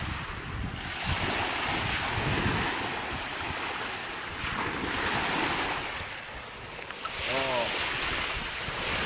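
Sea waves wash up on a beach and roll in continuously, mixed with strong wind buffeting the microphone, and a voice is briefly heard near the end.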